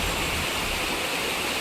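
A high school water fountain runs with a steady hissing stream of water, close and continuous, with no voices.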